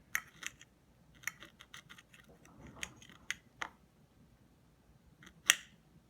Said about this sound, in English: get to this knife cutting, see what that looks like. So I just cut these into pieces.